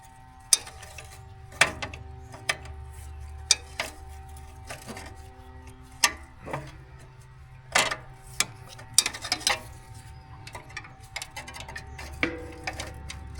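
Removing a support bolt on a U302 tractor: intermittent metallic clicks and ratcheting ticks from a wrench, spaced irregularly over a faint low hum, close by with no talking.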